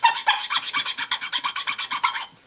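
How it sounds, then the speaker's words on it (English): A heavy-duty file rasps across wood from an old kitchen chair being made into a pedal board, about seventeen quick, even back-and-forth strokes close up, ending abruptly with no talking. "So you just kind of rub it down with a nice heavy-duty file there"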